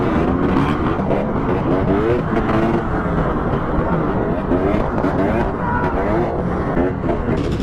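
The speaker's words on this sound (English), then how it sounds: "The roar of engines and dangerous wheelies added to the tension." Motorcycle engines roar continuously and loudly during a high-speed chase, a dense steady drone with shifting revs and no pauses.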